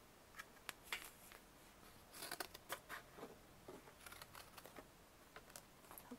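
Scissors snip through cardboard packaging in a series of quiet, irregular crunching cuts, close and faint, with short pauses between strokes.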